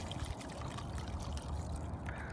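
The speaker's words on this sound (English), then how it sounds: "There's gonna be a lot of seed in this pour." Tomato seed pulp pours into a bucket during mass seed extraction with a mortar mix paddle, a continuous wet splashing trickle that stays steady and fairly close, with no talking.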